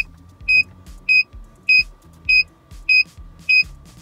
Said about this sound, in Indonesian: Ini suara warningnya.